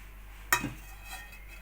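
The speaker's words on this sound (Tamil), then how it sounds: "பேன் வச்சுட்டு கேரட் ஆட் பண்ணிக்கலாம்." Carrot pieces dropped into a pan, a single brief clatter with a light scrape after it, fairly quiet against a steady low hum.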